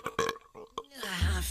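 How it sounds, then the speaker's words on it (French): A cartoon troll girl lets out a burp, heard after a few short voiced sounds: a rising, gurgling belch with a low rumbling tail, close and clear. "Oh, un vrai rot de troll."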